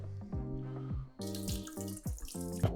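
Starchy water used to rinse rice is poured away into a sink in a run of gurgling, glugging splashes with rising and falling pitch, ending in a few louder sloshes. No one speaks.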